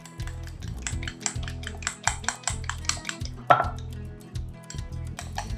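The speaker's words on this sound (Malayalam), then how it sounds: "നന്നായിട്ടൊന്ന് അടിച്ചെടുക്കാം." Coating mixture of maida or cornflour for chicken cheese rolls being beaten in a bowl: quick, steady clicking strokes against the bowl that repeat nonstop, close and clear over a low background hum.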